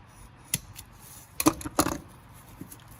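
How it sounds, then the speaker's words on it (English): A sharp knife cuts hair off a vacuum cleaner brush roll, giving a few short, close slicing snips and scrapes spaced out over quiet background, with no voices. "go right down the middle with a sharp knife or scissors if you so desire"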